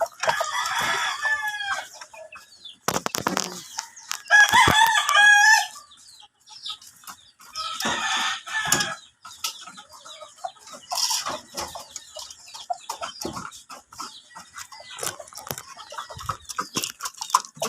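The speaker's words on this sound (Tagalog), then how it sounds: "Pagising, unahin pakain yung mga manok." Backyard chickens at feeding time, with repeated close clucks and a rooster crowing loudly in bursts, separated by quieter scratching and pecking sounds.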